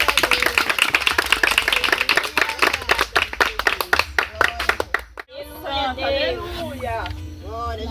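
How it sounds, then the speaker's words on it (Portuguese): A church congregation at a children's worship service claps hands in sharp, rapid, fairly rhythmic bursts for about five seconds, then the clapping stops and voices take over. "Quem ama Jesus dá uma salva de palmas"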